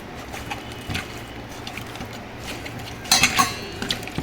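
Chicken pieces being mixed with chili powder for Dhonne chicken biryani, Karnataka style, giving quiet intermittent utensil scrapes and clinks that grow into a brief louder cluster of clatter near the end.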